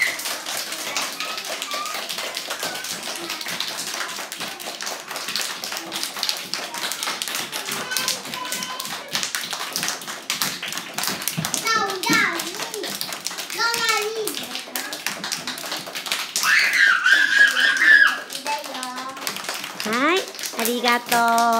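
Kindergarten children at Tomobe Kindergarten in Kasama clap for carers, a rapid, continuous patter of many small hands that swells louder toward the end, mixed with children's voices and chatter.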